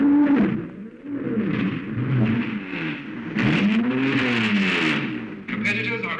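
Racing car engines rev and roar before the start of a race marking a half century of motoring, rising and falling in pitch at close range, with a voice talking over them.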